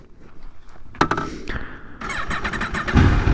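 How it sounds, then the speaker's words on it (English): A 2022 Aprilia RSV4 Factory 1100 with a BT Moto ECU flash tune starts up, a starter clunk catching into a sharp rising crank, then settling into a loud, throbbing close-range idle. "let's kind of just go through this and start her up and get her going"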